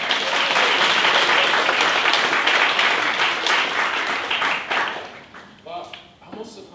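A live audience gives Benjamin Zephaniah a loud, sustained round of applause at an event in Ealing, steady dense clapping that thins and fades toward the end as a voice begins to speak.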